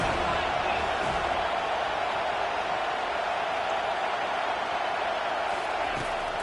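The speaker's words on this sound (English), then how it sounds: "Decibels rising as the crowd gets behind this defense on 3rd down." A stadium crowd in the College Football 25 video game roars steadily on a defensive third down, a dense, continuous wall of noise that stays loud from start to finish.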